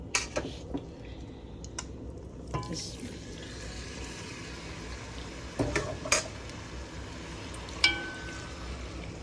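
Chicken drops into four tablespoons of oil in a pot and fries with a low, steady sizzle. Scattered clinks of utensils against the pot break through at intervals, with no talk over it.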